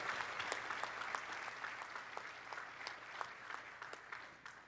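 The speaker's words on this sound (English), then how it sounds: "A round of applause for the backbone, heart, body, soul of the Joint Force." Attendees at the LANPAC conference keynote applaud enlisted troops and NCOs, distant, quiet clapping with some individual sharp claps standing out as it gradually fades.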